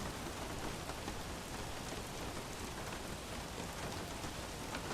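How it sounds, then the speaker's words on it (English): Heavy rain pours down during a wet Russian Grand Prix in an F1 racing video game, a dense, steady hiss of downpour that fills the whole clip at constant loudness with no voices. "it is absolutely bucketing down"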